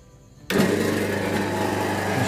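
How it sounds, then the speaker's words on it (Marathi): A peanut roasting machine, preheated to a set temperature of 280, switches on abruptly after a moment of quiet and settles into a loud, steady mechanical hum and rattle that runs on without a break. "मशीन चालू झालेली आहे।"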